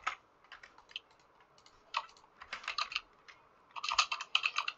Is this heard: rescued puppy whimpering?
no